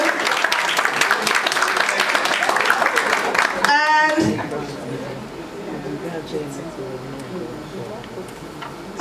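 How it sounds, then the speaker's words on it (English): Audience applause for speaker Tajuddin Bakari at a bank event, dense clapping that cuts off sharply after about four seconds, leaving a quieter murmuring room. "A round of applause for him."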